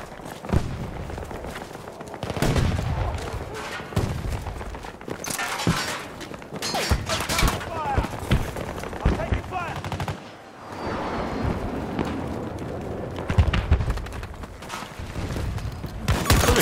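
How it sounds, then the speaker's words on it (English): Gunfire in a shooter video game: nearly continuous loud automatic bursts and single shots, close and dense over the whole stretch, with a brief lull near the middle and a voice talking faintly underneath. "Who was shooting us from behind?"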